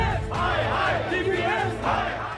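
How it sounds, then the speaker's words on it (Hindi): Parents protesting in the streets of Delhi over school fee hikes shout together in a loud crowd chant, the voices rising and falling in waves of near, continuous shouting. "दिल्ली की सड़कों पर हाथों में प्ले कार्ड और पोस्टर के साथ प्रदर्शन करते ये वो मजबूर अभिभावक हैं"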